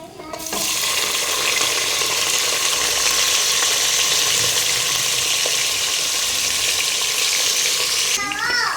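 Spices and onion frying in oil, a loud continuous sizzle that bursts in suddenly and holds steady, with brief stirring and faint voices near the end.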